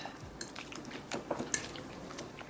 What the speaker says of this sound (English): now we're going to mix it again with the spices